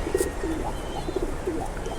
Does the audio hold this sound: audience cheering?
no